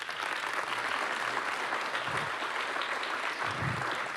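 Audience at a university lecture applauds warmly after a speaker's introduction, a dense, even roll of many hands clapping steadily throughout, with a few low thumps and faint stirring beneath.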